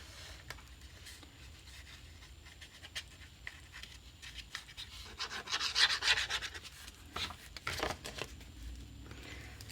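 Glued paper edges of a handmade hardcover notepad being burnished: a steady, dry rubbing and scraping that runs continuously and grows louder and busier midway, close up with no voices.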